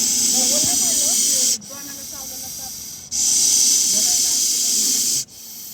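An angry Russell's viper held inside a net gives long, loud breathy hisses, two drawn-out bursts separated by a quieter pause, while someone talks underneath.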